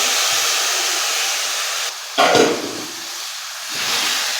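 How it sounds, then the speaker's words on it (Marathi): Chopped tomatoes hit hot fried spices in oil with a loud burst of hiss that swells then settles into steady sizzling, over a constant background hiss. "टोमॅटो बारीक चिरून घेतलेले आहेत ना ते टाकून घेते"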